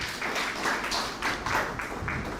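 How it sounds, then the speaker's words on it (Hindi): Audience applause rings out for a man named Ravi Kumar at a farmers' quiz show on paddy farming, steady mid-level clapping sustained for a couple of seconds with slight swells. "जोरदार तालियां रवि जी के लिए बजाइए।"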